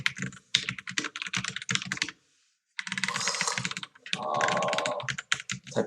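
Fast, uneven keystrokes on a computer keyboard while coding, close and crisp, in quick bursts separated by a short pause and a few longer runs of clicking.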